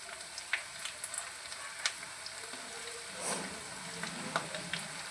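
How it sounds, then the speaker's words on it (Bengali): Chopped green chillies hitting hot oil in a frying pan give a steady, fairly quiet sizzle with small crackles and pops. "এবার লঙ্কা কুচি দিয়ে দিচ্ছি আমি"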